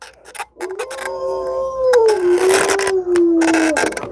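A dog howling in one long, drawn-out note that slowly bends downward in pitch, loud and close, with a few short knocks and rustles before and between.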